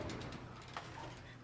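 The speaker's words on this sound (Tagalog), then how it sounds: "Grabe magsiliparan yung mga ibon ko" Pigeons in a loft coo softly under a loud, steady wash of broadband noise that partly masks the calls.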